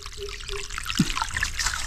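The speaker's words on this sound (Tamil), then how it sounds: "இங்கே பாருங்கள் தண்ணி எப்படி வந்துக்கிட்டு இருக்குன்னு" Water flowing into a pathakattai bamboo fish trap, a soft trickling and gurgling stream with small splashes, close by.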